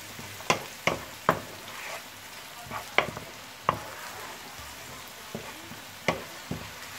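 Onions frying in a pan for a chicken and pepper dish, soft sizzling underneath a series of sharp clacks and scrapes as the pan is stirred at irregular intervals, no talking.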